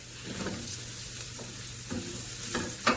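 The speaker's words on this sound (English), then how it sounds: "And now we'll be adding the peppers." Sliced peppers for shrimp fajitas sizzle steadily in a hot frying pan, broken by a few sharp scraping stirs near the end, with no voices.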